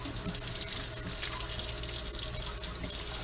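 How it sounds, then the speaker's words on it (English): A kitchen tap runs steadily as hands are washed beneath it, a close, continuous splashing flow with no pauses across the short stretch. "Let me wash my hands."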